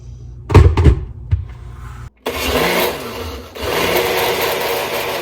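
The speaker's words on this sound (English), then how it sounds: "I've had the blender going for about 3 minutes" A few sharp clunks and knocks, a brief silence, then a loud continuous blender motor whirring with a churning, grinding roar as it blends rice and water, close up.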